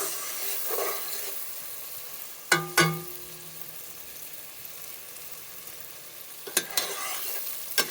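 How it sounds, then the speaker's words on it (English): Vegetables for she crab soup sautéing in a pot give a soft, steady sizzle, broken by two sharp clanks of a utensil against the pot and a few lighter knocks near the end, close and fairly quiet. "Give it a nice mix."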